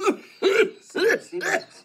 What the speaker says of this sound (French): je ne fais que tousser nuit et jour